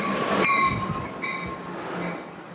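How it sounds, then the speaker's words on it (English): Passenger trains rolling on rail lines in Los Angeles, a loud steady rumble of railcars with tonal wheel and motor whine, strongest at the start and holding on throughout. "The trains are rolling above the ground and below"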